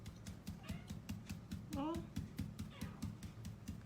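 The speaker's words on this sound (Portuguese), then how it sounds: "Quem que tá miando?" A house cat meows softly a few times, one rising meow standing out, against steady rhythmic background thumping and faint voices nearby.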